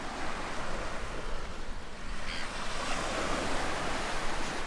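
Waves rolling onto a beach as a steady wash of surf, mixed with some wind noise, with no voices heard.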